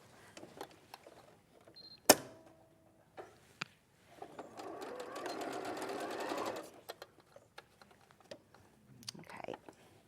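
A sewing machine stitches fabric in a short steady run of about two seconds, surrounded by scattered clicks, taps and handling knocks in a quiet room.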